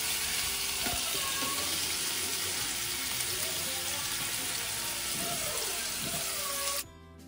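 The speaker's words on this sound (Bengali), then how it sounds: "এবার এটাকে একটুখানি গন্ধ বেরোলে পরে আমি তার মধ্যে যে পেঁয়াজ কুচি করে রেখেছি সেটা অ্যাড করে দিলাম।" Chopped onion fries in hot oil with dried red chillies, giving a dense, continuous close sizzle with faint stirring clicks that cuts off abruptly near the end.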